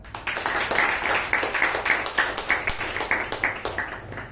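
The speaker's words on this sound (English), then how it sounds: "A round of applause for him." A meeting audience gives a round of applause, a moderate room-sized patter of clapping hands with a few louder individual claps standing out over the quieter mass.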